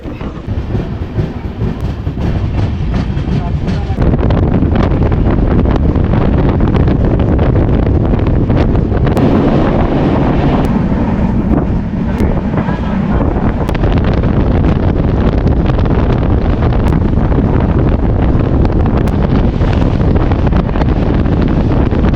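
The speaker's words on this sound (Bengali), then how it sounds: "চলো তাহলে ট্রেনে উঠে পড়ি সিগনাল দিয়ে দিয়েছে" A passenger train running on the line to Digha, heard from on board: a loud, constant rumble with wind rush and faint rhythmic clicking of wheels over rail joints, building up in the first seconds, then holding steady.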